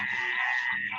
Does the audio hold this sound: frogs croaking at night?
yes